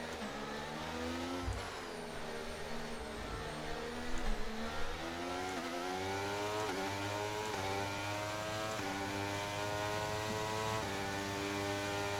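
A Formula 1 car engine races in the F1 23 game on the Las Vegas circuit, its high whine rising and falling through repeated upshifts and revs, loud and continuous, with no talk.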